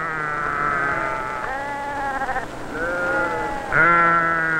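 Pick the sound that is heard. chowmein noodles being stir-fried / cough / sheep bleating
sheep bleating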